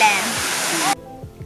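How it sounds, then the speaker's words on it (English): The 25-metre Phayao waterfall, which falls from a limestone cliff on Doi Phra Mon in Phayao National Park, Thailand, gives a steady, loud rushing roar that stops abruptly after about a second, leaving faint low thumps. "The landmark of the Phayao National Park is the Phayao waterfall"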